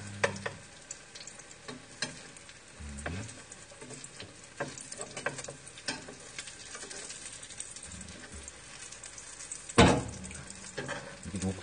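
Rolled egg omelette frying in a pan, with a soft steady sizzle under scattered scraping and tapping of a utensil against the pan, plus one louder clack near the end.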